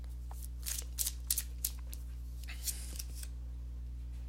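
Tarot cards being shuffled and handled while a card is drawn, giving a quick cluster of soft papery flicks and slaps close by over a steady low hum, with no talk.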